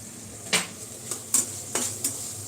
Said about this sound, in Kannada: ಚೆನ್ನಾಗಿ ಫ್ರೈ ಆಗ್ತಾ ಇದೆ ನೋಡಿ ಇಲ್ಲಿ ಸೀಮೆಗ ಬದನೆಕಾಯ್ದು ರೊಟ್ಟಿ ಮಾಡಿದ್ದೀವಿ